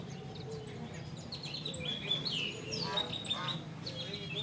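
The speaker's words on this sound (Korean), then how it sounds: "이곳에는 희귀 앵무새와 바우어새 등 다양한 종류의 새들이 유통되는 곳이라고 했다" A busy Indonesian bird market selling rare parrots, bowerbirds and many other species fills the air with overlapping squawks, chirps and quacking calls, with a low murmur of people and activity underneath.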